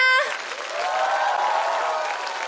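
Audience applause at a televised music show after a singer's performance, a dense steady clapping wash that swells right after the music cuts off and holds loud for a couple of seconds.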